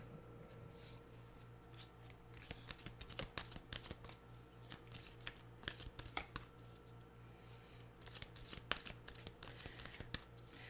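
Tarot cards shuffle close by in a quiet room: repeated brisk riffles and soft slaps come in uneven bursts over a faint steady hum, with no one talking.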